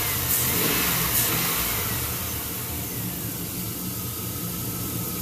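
A 1999 Chevy Silverado 5.3L V8, running lean, holds a steady, loud engine drone with a slight rise in revs near the start, then settles into a constant rumble without talk.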